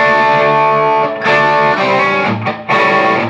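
Distorted electric guitar playing a funk riff, with hammer-on notes and chunky rhythmic strums in a loud, steady sequence with brief gaps between phrases.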